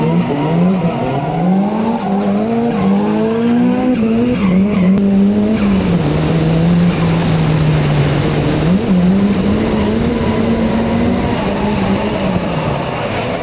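Two drift cars running in tandem, with Nakamura chasing a lead car, screaming tire squeal and engine drone sliding and wavering continuously, loud and close throughout.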